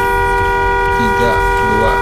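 A sustained, chord-like car horn blares from a vehicle in the Roblox game Car Driving Indonesia, loud and steady throughout, with talk over it.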